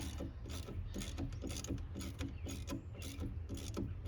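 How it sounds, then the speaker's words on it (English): A hand ratchet clicks rapidly and steadily up close as it drives screws into a wiper module on a 1999–2006 GM truck, with a continuous mechanical whirring underneath and no talking. "then if I have to, I'll use the ratchet and I'll turn it by hand."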